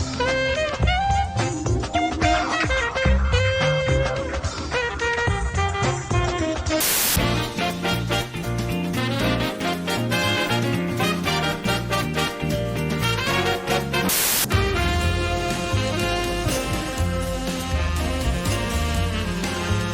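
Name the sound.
video game city level music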